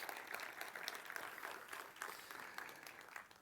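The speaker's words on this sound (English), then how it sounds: "I'd like to ask you all, a round of applause to the organizers of KCD Austria" A conference audience at KCD Austria applauding the organizers, a faint, brief patter of clapping hands heard from a distance that thins out toward the end.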